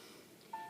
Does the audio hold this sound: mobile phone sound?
yes